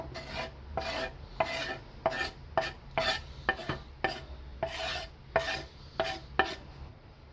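Squid innards chum bait for surf fishing is being mixed by hand: about a dozen wet, squelching stirring strokes in an uneven rhythm, close and fairly quiet, with no talking.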